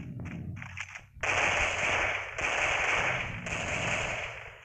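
Gunfire in the shooter game Special Force Group 2: a few quick shots, then sustained rapid automatic bursts in three long runs separated by short pauses, loud and crackly.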